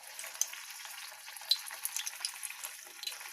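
Eggplant slices frying in a pan of hot oil, a continuous close crackling sizzle with scattered sharper pops, steady and fairly quiet, with no voices over it.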